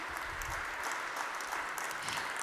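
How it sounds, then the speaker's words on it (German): An audience applauds at a German conference event, a steady, even wash of clapping held at moderate volume throughout. "Und ein großer Applaus nochmal für Sie alle, die Sie hier Rede und Antwort gestanden haben"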